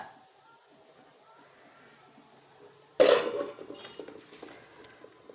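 A sharp metallic clang as a heavy metal griddle pan is set down, followed by lighter clinks and rattles, with muffled voices nearby.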